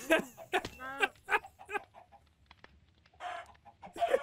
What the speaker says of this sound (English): It was though a thousand chickens screamed all at once